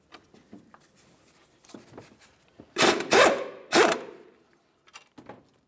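Bolts on a brake caliper bracket of a Chevrolet Trailblazer are worked loose, with faint clicks and handling, then a few loud rasping ratchet bursts up close before quieter tool taps.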